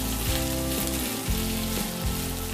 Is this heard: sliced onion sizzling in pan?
yes